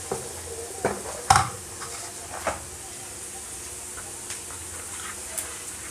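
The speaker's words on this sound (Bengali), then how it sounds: "এগুলো একটু হালকা ভাজা ভাজা হতে থাক" Onions fry gently in a pan with turmeric powder, giving a soft continuous sizzle broken by a few sharp clinks and scrapes of stirring, close by and fairly quiet.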